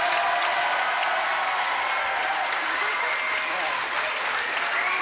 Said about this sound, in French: Applaudissements pour celle de Patrice.